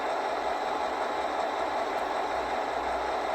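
A Rapido GP38 HO scale model locomotive in BN paint creeping along at its lowest speed step, giving a steady, faint mechanical whir and hum with no clear rhythm and nobody talking.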